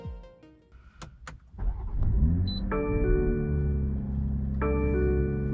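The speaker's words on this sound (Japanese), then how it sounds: "まずこの車内にも届くアクティブなサウンドに、この BMW の先進的な音、すごく高まりますよね。" A 2022 BMW M340i xDrive sedan with a 3-litre straight-six turbo is heard from inside the cabin: a few clicks, then a steady engine rumble with a low drone and a tonal hum that briefly rises again.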